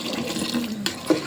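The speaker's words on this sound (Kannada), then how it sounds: "ಸ್ವಲ್ಪ ನೀರು ಹಾಕೋಣ" Water is poured into puri dough in a kitchen, a steady close splashing stream with a couple of small sloshes near the end. No voices.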